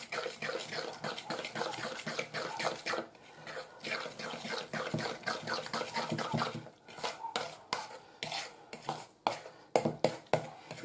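Batter for zucchini fritters, mixed with a teaspoon of baking powder, being stirred briskly in a bowl, giving repeated clinks and scrapes of utensil against the bowl in a steady, close rhythm with no talk.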